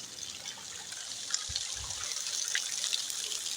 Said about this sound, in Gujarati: અહીંયા નર્મદા ભૂંગળા પાણી આવે છે.